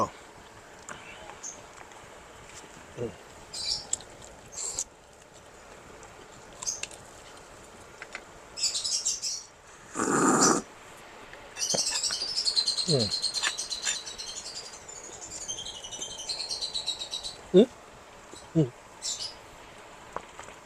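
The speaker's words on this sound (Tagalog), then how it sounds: "Yung mga ibon ko nangihingi." High-pitched chirping from small pet birds comes in scattered bursts, with occasional rustling and clicks between quieter stretches.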